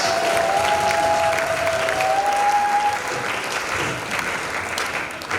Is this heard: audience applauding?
yes